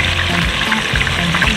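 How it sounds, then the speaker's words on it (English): Beef liver slices fry in a hot pan with a steady, close, loud sizzle and crackle that continues unbroken. "Maybe it takes like 2 minutes or even less 2 minutes to fry it a little bit"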